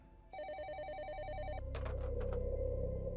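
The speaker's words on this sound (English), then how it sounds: "My phone rang and I picked it up." A telephone rings with a fast warbling electronic trill, one sustained burst followed by a low rumbling thud and scattered clicks.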